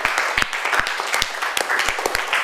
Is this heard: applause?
yes